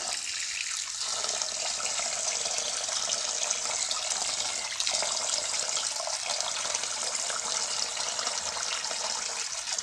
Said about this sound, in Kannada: ಈಗ ಇದಕ್ಕೆ ನೀರು ಹಾಕ್ತಾ ಇದ್ದೀನಿ